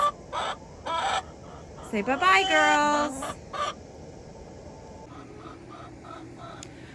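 Chickens at a backyard coop on an urban farm give a short burst of crowing and clucking in the middle, with a person talking briefly before it, then quiet outdoor background.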